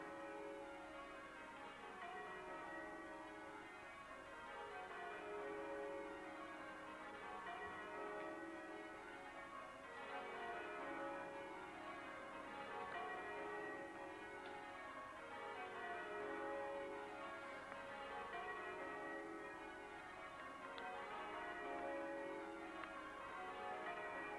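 Church bells in Sydney ring a continuous change peal, the tumbling descending rounds repeating steadily and evenly for the whole stretch, heard at a moderate distance with no talking.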